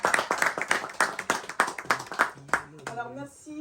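An audience claps in a quick, steady rhythm for a show's production team, loud and close, fading out as a voice starts speaking over the last moments.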